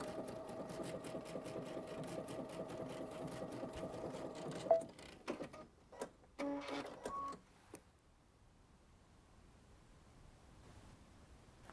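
A Brother sewing machine fitted with a MuVit foot sews triple and decorative stitches, humming steadily at low volume for several seconds, then giving a few short stop-start bursts before falling quiet.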